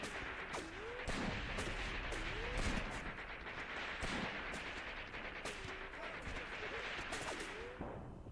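A Graviteam Tactics battle sounds with repeated sharp gunshots and bursts of machine-gun fire over a dense, continuous layer of combat noise, at moderate distance.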